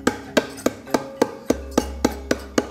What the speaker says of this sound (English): the easy way to get it out, back of the knife.